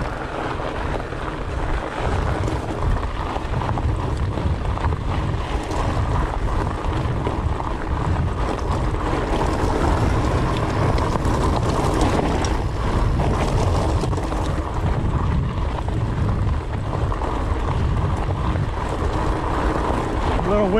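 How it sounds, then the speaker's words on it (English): Steady wind roaring and buffeting across the microphone while riding a fat-tire bike on desert trails, continuous and loud throughout, with a low rumbling undertone. "Windy today."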